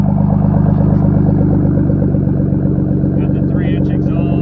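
A 500-horsepower turbocharged Nissan 300ZX with a 3-inch exhaust idles close by, giving off a steady, deep, throbbing rumble with light mechanical clatter and a faint voice underneath.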